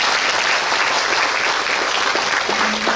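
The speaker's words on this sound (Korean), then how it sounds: "다시 한번 감사의 박수 부탁드리겠습니다" Audience applause at the close of a guest lecture by a novelist in a city hall conference room, steady dense clapping from a sizable crowd lasting the full few seconds, fairly close and even.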